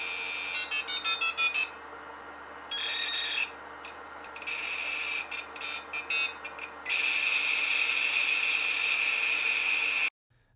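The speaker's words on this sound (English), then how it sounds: "actually connecting to a dial-up connection" A dial-up modem connecting over a phone line: bursts of tones and screeching handshake noise that settles into a steady high whine before cutting off abruptly at the end.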